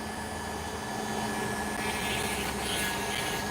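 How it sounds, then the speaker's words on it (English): Police helicopters drone steadily overhead as a broad, continuous wash of rotor and engine noise that grows slightly fuller toward the end, with no speech. "Those police helicopters are flying around again."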